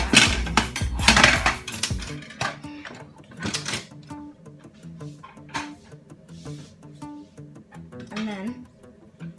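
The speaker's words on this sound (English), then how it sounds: "you just want to place your cake on the cooling rack" Victoria sponge cake tins set down on a metal cooling rack, sharp clanks and ringing metallic knocks bunched at the start, then lighter taps, close by, with a person talking throughout.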